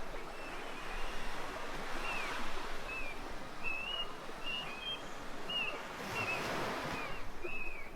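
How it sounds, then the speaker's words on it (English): Soft water lapping and splashing continuously against stone in Venice, with faint birdlike chirps or whistles rising at intervals in the distance. "listening to the soft splash of water against the stone"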